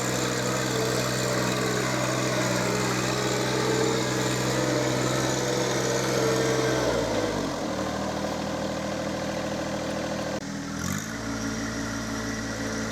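Small John Deere 1025R compact tractor working a Land Pride soil pulverizer on a new lawn, its engine droning steadily and loudly up close, dipping and revving around the seventh and eleventh seconds as it pulls out.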